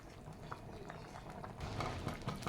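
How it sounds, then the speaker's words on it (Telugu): Sago payasam with jaggery simmers in a pot, giving a soft, steady bubbling and popping that grows slightly busier toward the end, quiet and close with no talking. "జస్ట్ ఇది కూడా ఒక 10 నిమిషాలు, పావు గంట ఉడకనివ్వాలండి"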